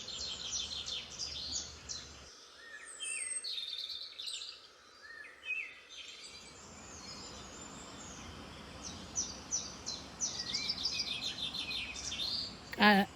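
Birds chirp outdoors in scattered bursts of quick, high tweets, some near and some farther off, over a soft background hiss that briefly drops quieter midway.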